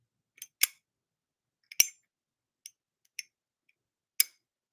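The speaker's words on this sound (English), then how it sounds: "I'm gonna be fidgeting with the lighter all night" A handheld lighter clicked open and shut, giving six sharp, dry metallic clicks at uneven intervals, close up and isolated against near silence.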